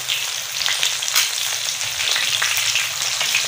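Crispy spicy Lahori-style fish sizzles steadily in hot oil on a tawa, a loud, dense, continuous frying hiss with small crackles, heard alone without voices.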